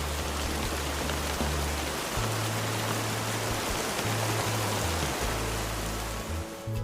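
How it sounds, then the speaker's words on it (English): Steady rain pours down in a dense, even hiss with a low rumbling undertone, continuous and fairly close throughout with no voices. "The rainwater goes back to the ground, into rivers and oceans,"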